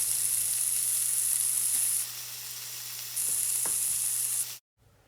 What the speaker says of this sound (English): I'm just going to continue to flip them over every couple of minutes until my patties are done